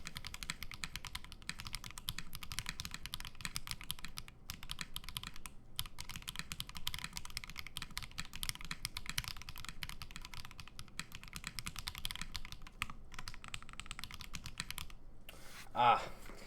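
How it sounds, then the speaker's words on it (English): Continuous typing on a KBDFANS Agar mechanical keyboard, a steady run of close, crisp key clacks with a slightly louder burst near the end, no talking. "I go to press the backspace and I'm hitting /"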